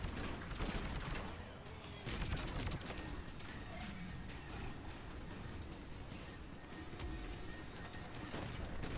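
Gunfire rattles in Mass Effect 3 during a firefight with an airborne ally calling for cover, a faint but continuous spread of rapid shots and crashes under the game's background noise.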